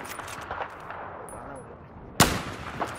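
A sniper rifle fires in Battlefield 4, a single sharp, loud crack that stands out abruptly after a quieter stretch of low game ambience, followed by a fainter echoing tail.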